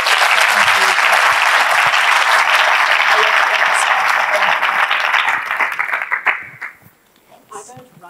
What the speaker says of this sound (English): can we please give them a round of applause for that?